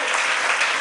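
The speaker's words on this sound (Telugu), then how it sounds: "చప్పట్లు కొట్టి దేవుని స్తుతిద్దాం" A church congregation claps together in praise of God, a short burst of dense, even applause with no voices over it.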